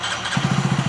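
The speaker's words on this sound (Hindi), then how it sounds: "बाइक को मैं स्टार्ट करूँगा, बाइक स्टार्ट हुई" A motorcycle engine fires up and settles into a steady, close idle with regular low pulses, with a fuel pump fault just worked on, heard alone without talk.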